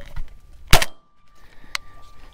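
A single sharp 28 gauge shotgun blast fired while dove hunting in an open field, loud and close, followed by a quick decaying report and a fainter pop a second later.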